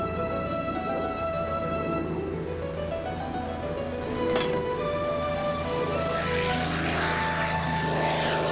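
A homemade model Defender fighter aircraft flies on its test flight, its propeller engine droning steadily at a distance with a slight rise in pitch as it passes, and no voices over it.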